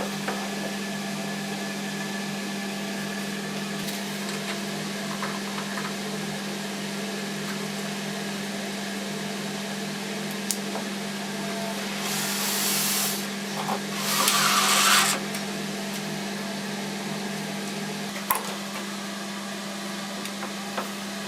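A router mounted upside down on a router table, set over aluminium extrusions, mills a piece of wood with a steady electric hum throughout, and a few louder hissing cutting bursts appear midway.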